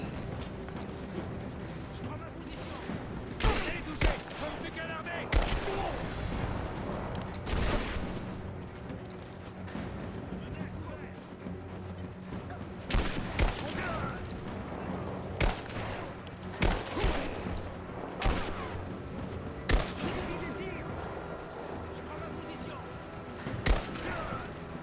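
Gunfire in the video game Rise of the Tomb Raider: repeated sharp shots and bursts scattered through the clip, mixed with game noise and ongoing talk.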